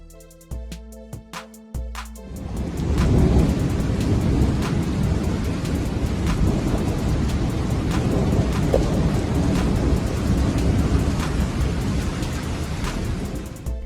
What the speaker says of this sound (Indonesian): Badai petir mengerikan di Jerman.